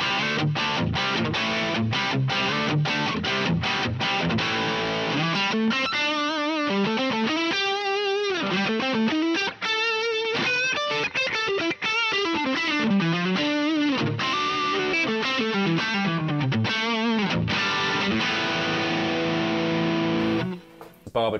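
Heavily distorted electric guitar riffs and sustained chords through a modeled Silver Jubilee amp in the Neural Amp Modeler plugin, loud and continuous with a thick, saturated amp tone, ending abruptly near the close.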